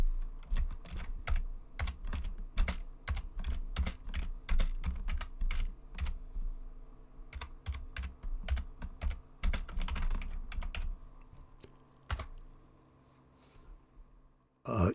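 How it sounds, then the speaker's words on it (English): Rapid, uneven keystrokes clatter on a computer keyboard while text is typed into a note card in a canvas app. The typing is close and steady for most of the stretch, pauses briefly, then resumes with a few final taps. "I can type text directly into the card"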